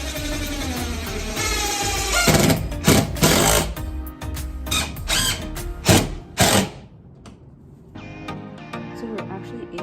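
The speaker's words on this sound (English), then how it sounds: "So now I am just mounting it to the wall using 3 star screws." A power driver sets screws to mount a track to a laundry area wall, loud bursts of whirring motor and grinding interrupted by short pauses and clicks.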